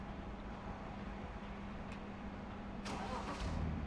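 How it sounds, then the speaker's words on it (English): Car engine starting in the Truck & Logistics Simulator video game, a mid-pitched engine cranking and catching at moderate loudness over a steady low hum, with the motor settling into a constant drone. "start the engines of each car individually and load them on manually, one by one"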